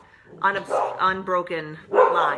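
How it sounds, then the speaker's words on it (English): Several dogs bark indoors in quick sharp bursts, close and loud, mixed with someone talking. "So sorry about my dogs."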